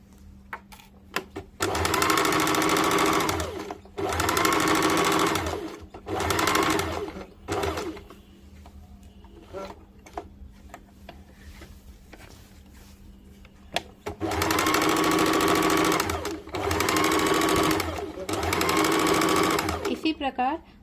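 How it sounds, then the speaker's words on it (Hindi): An electric sewing machine runs a double seam on a churidar, whirring in several sustained bursts of two to three seconds separated by pauses, while someone talks between and over the stitching. "अब इस वाले हिस्से में 1/2 इंच में सिलाई डाल देंगे, डबल सिलाई।"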